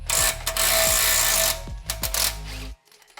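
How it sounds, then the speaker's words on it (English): A Ridgid impact wrench hammers on the axle nut of an MK8 GTI in loud rattling bursts, with a sustained run, a pause, then two shorter blasts before it stops. "We'll test out the impact here on the axle nut."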